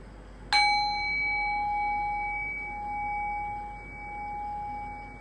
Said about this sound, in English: I'll probably ring the bell to end the meditation